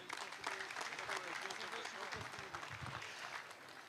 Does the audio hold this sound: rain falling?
no